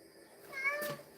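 A cat gives a single short meow nearby, fairly quiet against a low background.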